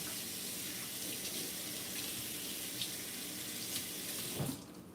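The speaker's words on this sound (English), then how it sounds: "so we're gonna rinse this off" Running tap water pours steadily into a sink as a utensil is rinsed, a continuous even rush that cuts off abruptly near the end, with no talking.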